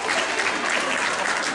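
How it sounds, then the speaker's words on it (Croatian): An audience at a Christmas village event gives continuous, dense applause for a kindergarten children's performance, filling the brief moment at a steady loud level. "svakome nagradimo i jednom velikim pljeskom"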